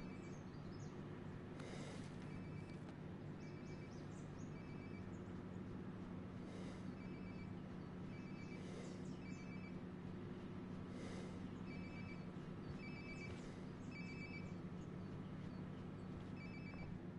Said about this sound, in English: I guess I better get my phone.